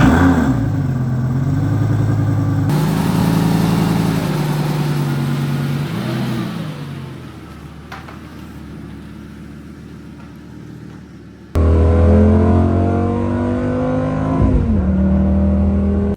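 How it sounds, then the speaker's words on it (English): A 2006 Lamborghini Gallardo supercar on a cold, sunny Chicagoland day drives and revs loudly up and down. The engine drops quieter for a few seconds, then bursts back into another close, roaring rev. "this is my 2006 Lamborghini Gallardo."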